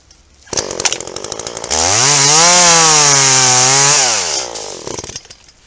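A chainsaw cuts into the trunk of a cull tree, the engine revving up from a rattling idle to a loud, sustained high-pitched scream as it bites through the wood, then dropping back to idle, very close.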